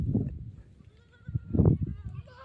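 A goat bleats in a few wavering calls, one short cry at the start and a louder, longer bleat about midway, with voices talking nearby.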